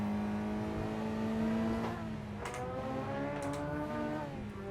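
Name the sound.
Honda CRX engine in a racing video game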